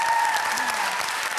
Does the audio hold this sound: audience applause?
yes